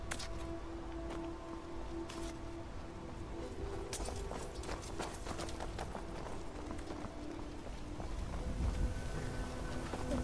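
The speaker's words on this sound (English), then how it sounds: "See, there's a horse." Horse hooves clip-clopping in the dark in Skyrim, a string of irregular sharp knocks repeating across the stretch over a low steady ambient bed, with no talk.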